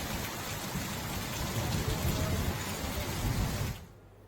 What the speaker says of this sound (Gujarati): સુરત શહેરમાં ધોધમાર વરસાદ શરૂ થયો